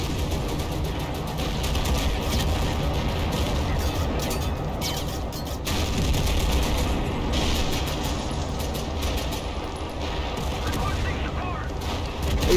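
Heavy, continuous battlefield din of artillery and gunfire in a tank siege video game, dense rumbling booms and crackling shots layered throughout, with a louder swell midway.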